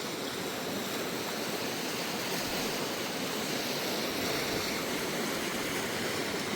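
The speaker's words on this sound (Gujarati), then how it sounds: "અહીંયા મસ્ત પાણી જાય છે" Clear water runs over visible stones in a forest stream near a cave, a continuous, even rushing hiss that stays close and steady throughout, with no speech.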